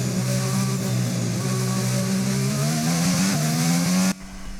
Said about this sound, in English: here, ladies and gentlemen, is actually what the Renault engine sounds like for comparison